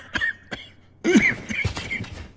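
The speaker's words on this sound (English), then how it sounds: "Let me cure your cough." A character in an English-dubbed fantasy anime coughs close and loud, a couple of short hacks followed after a pause by a harder, raspy coughing fit of several bursts.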